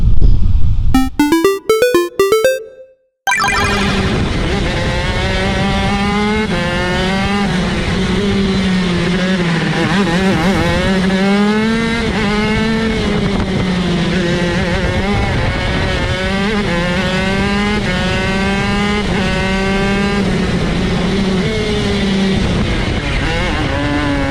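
A race car drives on a track on old tires, its engine loud and close, revving up and down in repeated sweeps for most of the clip after a brief burst of higher-pitched stepping tones at the start.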